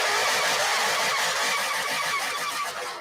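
A street car's engine cranking and catching into a revving start, played back as a sound clip, with a dense, bright mechanical roar that stays loud and fades slightly at the end, no talking.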